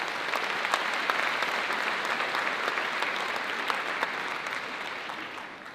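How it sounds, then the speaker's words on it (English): School district staff at an opening day gathering give a sustained round of applause, dense steady clapping from a large room that fades slightly at the end. "So give yourselves a round of applause."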